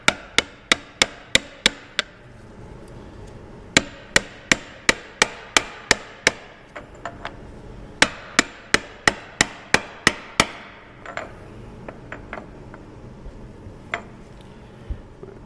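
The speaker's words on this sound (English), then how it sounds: "Set this bad boy in place. And give it a few taps." Seal being tapped into place on an Onan 5HGJAD engine during a rebuild, a long run of sharp, close metallic taps in quick rhythmic bursts with brief pauses between groups.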